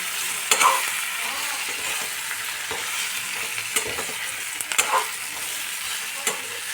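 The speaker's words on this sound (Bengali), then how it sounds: "এখন আমি মাথাগুলো 2-1 মিনিট কষে মাথাগুলো দিয়ে দিলাম" Fish heads fry in a small amount of oil, a steady broadband sizzle running throughout with occasional sharp clicks and scrapes of a spatula stirring them in the pan, close and alone with no voices.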